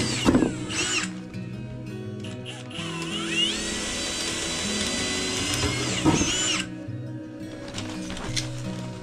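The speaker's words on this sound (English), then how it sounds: "I want to drill these new holes with the same diameter that exists on the mounting plate." Power drill boring mounting holes through a metal mounting plate for a direct vent propane heater, a loud whining drill run lasting several seconds between short bursts, close up with rattling and clicks.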